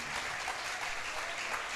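A church congregation at an evangelical worship service applauds with steady, dense clapping that fills the room without a break for a couple of seconds.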